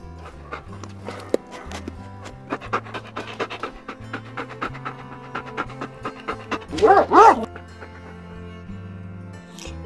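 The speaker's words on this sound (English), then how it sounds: "D for dog." A dog yips and whimpers in quick, close bursts with panting, rising into a louder excited cry near the end over a low background tone.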